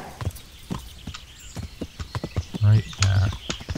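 Horse hooves clip-clop in a steady rhythm of close, sharp strikes in the medieval game Kingdom Come: Deliverance, with a louder low thump and someone talking over it.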